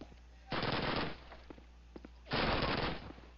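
Two loud bursts of automatic machine-gun fire in the first-person shooter video game Call of Duty, each lasting about half a second to a second, separated by quieter game ambience with a few faint single pops.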